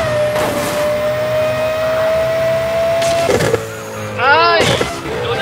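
A car in the video game Burnout Paradise holds a steady engine whine, then revs and skids with squealing tones near the end, while a voice speaks over the game sound.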